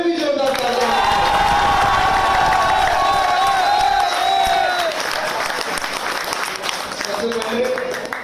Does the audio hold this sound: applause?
yes